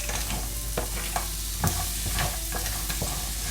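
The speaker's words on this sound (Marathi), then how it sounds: "हे जे मॅरिनेट करून ठेवलं होतं खेकड्याच्या जाड नांग्या आणि त्याचं पोट ते आता मी याच्यामध्ये टाकते" Marinated crab claws and body pieces sizzle and get stirred in tomato masala, a close hiss broken by scraping spoon strokes at irregular intervals, with no voices.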